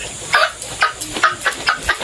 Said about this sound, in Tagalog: Magaling manghuli ng manok si Nanay Nits.